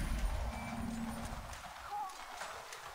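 Horse hooves clip-clop during riding in Assassin's Creed Valhalla, a steady low patter alongside a brief whinny-like call, with game ambience and a voice talking over it.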